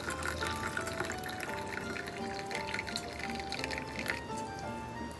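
Warm water pours in a continuous trickle onto whole cloves in a container, a steady bubbling liquid stream heard close and alone.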